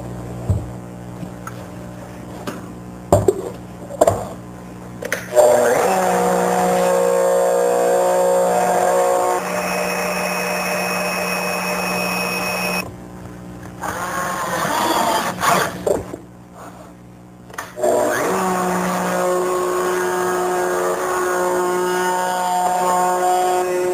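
A handheld router hollows out a wooden bowl in a CMT bowl-routing jig. It makes a loud, sustained high whine that bites and rises as it cuts, with short drops and pauses between passes.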